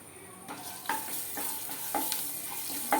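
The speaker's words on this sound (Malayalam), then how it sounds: "അതിന് ശേഷം ഒന്ന് വഴറ്റി കൊടുക്കുക." Urad dal sautéed in a little oil in a pan for tomato chutney, giving a soft, steady sizzle with a few sharper scraping stirs spaced about a second apart; no talking.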